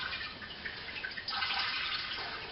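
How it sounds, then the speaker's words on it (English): Liquid dripping and trickling from a squeezed bag of brewing grain during small-batch stovetop all-grain brewing, a faint, continuous patter of drips that thickens slightly partway through. "you can give this bag a bit of a squeeze and get some of this extra, just to help get the water out of here"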